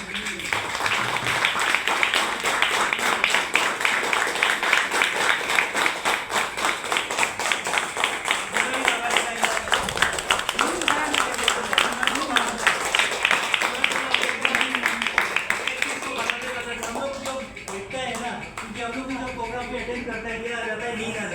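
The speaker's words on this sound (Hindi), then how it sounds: "सबसे चाहेगा कि जोरदार ताली हो जाए" An audience at a lifestyle business plan meeting claps loudly in a fast, regular rhythm, sharp repeated hand strikes running for about twenty seconds, with voices heard alongside the clapping.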